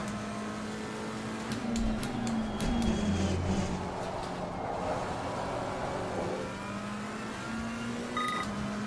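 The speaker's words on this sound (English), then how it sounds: "I love the way this McLaren sounds. Sounds so angry." A McLaren race car engine in Assetto Corsa Competizione drones steadily at high revs throughout, with brief gear-change blips early on and a few short beeps near the end, no talk over it.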